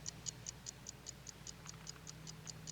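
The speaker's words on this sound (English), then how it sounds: "So now the watch ticks." A repaired watch ticking, a Commodore's pocket watch with its broken inner part replaced: crisp, even, rapid ticks in a steady regular rhythm, close and fairly quiet over faint room hum.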